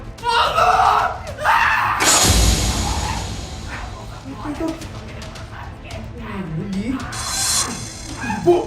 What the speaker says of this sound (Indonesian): jangan teriak-teriak, Bu.